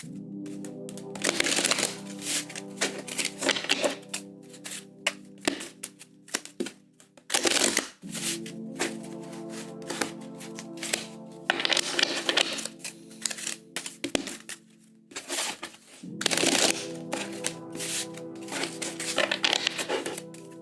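Tarot cards are shuffled in repeated bursts of riffling and tapping, close and crisp, with brief pauses between the three rounds of shuffling and no talking.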